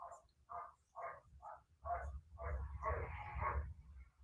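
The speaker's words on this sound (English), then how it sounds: "our barking dog." A dog barks repeatedly, several muffled woofs in quick succession, then a longer run of barking over low background rumble, somewhat distant.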